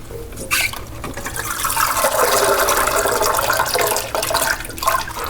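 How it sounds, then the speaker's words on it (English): Salad greens are gently swished by hand in a bowl of water, a continuous close sloshing and trickling of liquid that swells and then eases, with no speech over it. "When my greens are in here in the bowl of water, I just like to massage gently."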